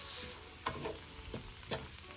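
Egg and vegetables stirred and fried in a pan for shrimp fried rice, a steady sizzle broken by a few scraping stirs of the spatula.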